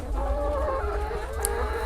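Laying hens cluck and murmur steadily at close range, a continuous low chatter of fowl with a low hum beneath and a brief higher call near the end.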